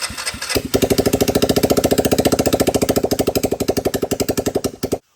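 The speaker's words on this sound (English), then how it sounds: "You gotta love a good single cylinder engine" A rebuilt Honda Fourtrax 300 single-cylinder engine runs loud and close. It gives a fast, steady thumping chug after a ragged start, then cuts off abruptly at the end.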